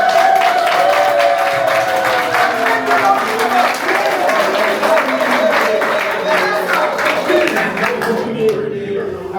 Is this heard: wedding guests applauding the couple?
yes